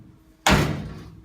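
A car door on a classic Mini under floor-pan restoration, rear quarter panel unclamped, slams shut with one loud, close thud after a quiet moment, then rings briefly.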